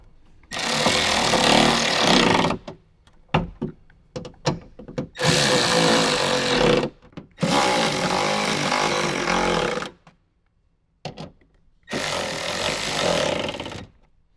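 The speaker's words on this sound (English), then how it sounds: "you are drilling a plastic speaker ring adapter into a plastic insert in the door" A power drill driving screws through a plastic speaker ring adapter into a plastic door insert of a Toyota 4Runner, four long loud whirring bursts separated by short silences and a few quick clicks and taps.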